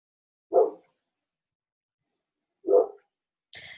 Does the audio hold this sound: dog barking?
yes